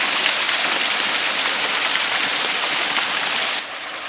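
A small waterfall near Sigulda, Latvia, fed from a swamp, pours in a loud, constant broadband rush heard close by, easing slightly in volume near the end.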